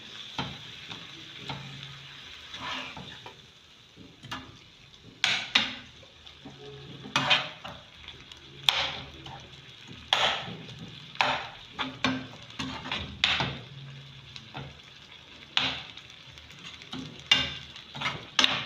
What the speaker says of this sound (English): So I'll continue to stir it.